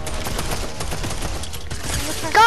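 Dense video game shootout gunfire, rapid bursts of overlapping shots running continuously and loud, with a brief voice cutting in at the end.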